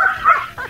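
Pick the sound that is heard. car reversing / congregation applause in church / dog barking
dog barking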